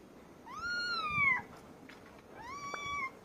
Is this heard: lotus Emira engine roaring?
no